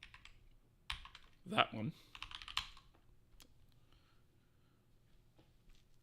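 Keystrokes on a computer keyboard come in quick, close clusters of clicks, loudest in a burst near the start and then thinning to sparse taps, with a voice briefly speaking under the typing.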